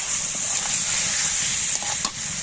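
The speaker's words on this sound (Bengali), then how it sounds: "অল্প একটু চিনি ছড়িয়ে দেবো টেস্টের জন্য, দিয়ে একটু নেড়ে নেবো চিনিটা যাতে গলে যায়" A spoon stirs sugar through cooked flat beans (shim) in a hot pan, with a steady sizzle and soft scraping throughout and a few brief clinks near the end.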